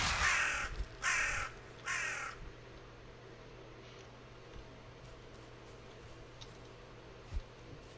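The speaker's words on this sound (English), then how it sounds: "Darn birds." Crows cawing in the Valheim video game, three loud harsh caws in quick succession at the start, then quiet ambient game sound with a few faint clicks.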